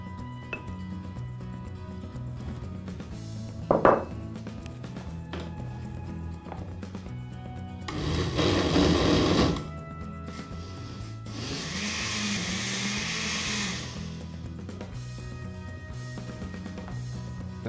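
A blender grinds chickpeas with onion in two loud bursts, a short one and then a longer whirring one. Quieter kitchen clatter and a sharp knock come before them.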